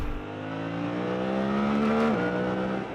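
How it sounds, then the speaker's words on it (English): A Suzuki V-Strom 800 RE twin engine revs hard, its loud, smooth note climbing steadily in pitch for about two seconds before dropping briefly as it shifts, with no talking. "It's really eager to rev, and it does sound pretty nice when you absolutely gun it."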